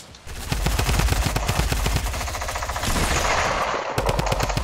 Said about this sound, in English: That shotgun effect is loud,